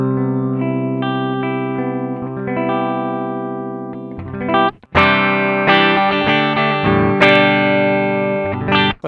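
Gibson ES-335 electric guitar played clean through a Koch Pedaltone preamp in bypass, loud and close: sustained chords and single notes ring out, then sharper strummed chords with brief gaps near the end, no speech.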